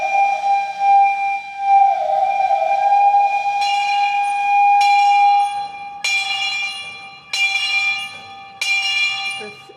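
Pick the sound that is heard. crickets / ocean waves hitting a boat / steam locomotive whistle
steam locomotive whistle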